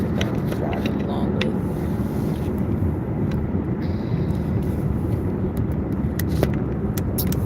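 Road traffic passes around a moving car as it drives along, a continuous low rumble and roar with faint wind buffeting and no voices.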